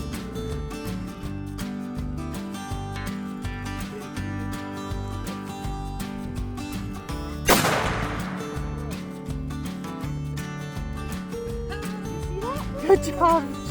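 A single sharp rifle shot rings out midway while hunting rifles are being sighted in, set against steady background music that runs throughout.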